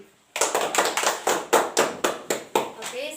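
A classroom claps for Nona Desti in about nine slow, even beats. Each clap is sharp and close, with short gaps between them.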